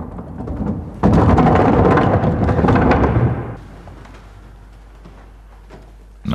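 An old theatre stage thunder machine gives a loud, broad rumbling roar for about two and a half seconds, then drops to a faint, lingering rumble with no voices.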